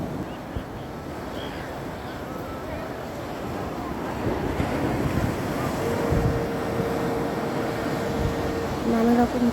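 Sea waves break on Puri beach, a broad continuous surf roar mixed with wind buffeting the microphone, running steadily throughout with a faint tonal hum near the end.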